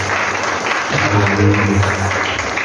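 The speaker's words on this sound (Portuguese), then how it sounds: "dar uma salva de palmas bem viva para o Senhor Jesus" A church congregation breaks into lively, sustained applause during a worship service, dense clapping filling the room with a voice briefly rising over it.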